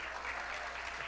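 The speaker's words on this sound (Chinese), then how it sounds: "掌声鼓励鼓励" Audience clapping at a Christmas evening show as children take the stage, a steady wash of applause at moderate distance, fairly quiet and unbroken throughout.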